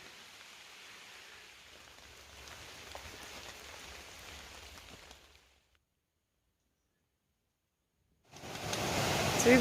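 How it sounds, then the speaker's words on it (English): Steady rain falling in a mountain valley hisses for several seconds, cuts to silence, then returns louder and closer. "I don't know if you can see the rain falling out there in the valley. You can certainly hear it."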